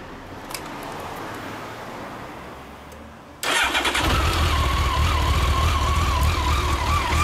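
Honda CBR1100XX Super Blackbird motorcycle engine fires up partway through after faint outdoor ambience, then holds a loud, steady, close idle with a rough mechanical rumble.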